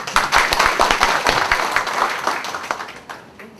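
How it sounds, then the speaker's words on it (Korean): Delegates at a union's extraordinary delegates' meeting break into loud, dense clapping that holds steady, then thins and fades out near the end. "대의원대회를 마무리해 박수 한번 보여주시기 바랍니다"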